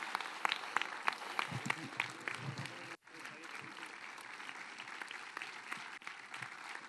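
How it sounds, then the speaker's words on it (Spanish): Audience applause for Patricia at a patronal festival proclamation event in 2021, a steady patter of clapping with a brief dropout midway, then continuing, with some voices murmuring under it. "Un aplauso para Patricia."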